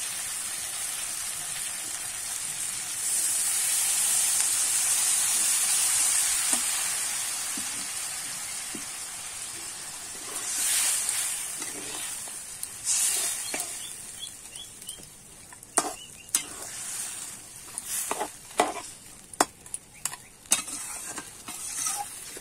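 Cold water poured onto frying Bhetki fish bones for a Bengali chorchori bursts into a loud hiss lasting several seconds, then fades to gentle bubbling and a series of clattering stirs and knocks. No voices.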